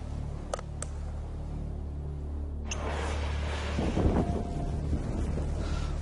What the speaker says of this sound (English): Wow, that ignites instantly.